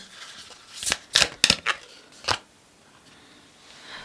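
Tarot card decks being shuffled up close, with a handful of crisp riffling bursts in an uneven rhythm, then near quiet.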